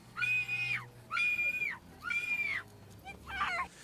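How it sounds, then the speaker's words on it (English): A giant woman's piercing, shrill scream from a 1950s-style monster film, heard as three long sustained wails followed by a shorter wavering cry, loud and close over a low background hum. "It's the worst scream you've ever heard. It's piercing. It's awful."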